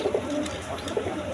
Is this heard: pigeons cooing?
yes